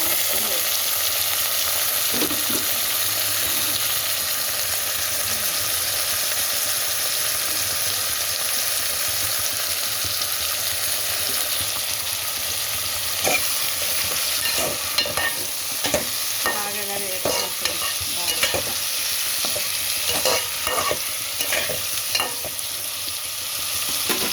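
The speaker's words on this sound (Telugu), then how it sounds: "బాగా వేగనిచ్చి ఇప్పుడు హై ఫ్రెండ్స్ ఆనపకాయ మంచిగా వేగిన తర్వాత" Chopped bottle gourd frying in a pan for a lentil curry, a continuous loud sizzle running throughout, with clusters of sharp spatula scrapes and stirs in the later half, close up and without talk.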